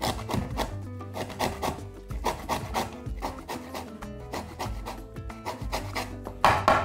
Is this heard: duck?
no